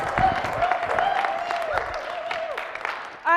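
A thin crowd at a live performance event applauds to welcome the next performer, scattered clapping running the whole stretch at moderate loudness, joined by a voice and a brief musical flourish at the end.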